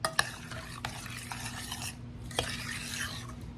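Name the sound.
stirring tomato preserves in a pot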